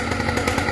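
A 78cc ATOM 80 two-stroke light aircraft engine runs steadily at high revs, a loud, close, raspy buzz with no pauses.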